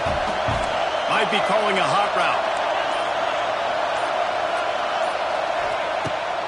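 Crowd noise roars steadily from a stadium in the NCAA 26 college football video game, a loud continuous wash beneath a play-by-play commentator's voice.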